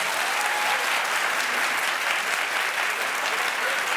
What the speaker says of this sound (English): Clap if you think it'd be Nicole Kidman.